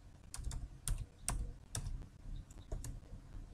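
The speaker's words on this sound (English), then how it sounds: "You simply type in here in your browser" Someone types on a computer keyboard in a browser, a series of crisp, close key clicks coming in uneven bursts with short pauses between them.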